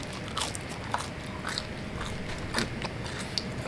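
Crisp bites and crunching chews through a crunchy, fluffy cast iron pan pizza crust, several sharp crackly bites spaced irregularly, close to the mic with no talking.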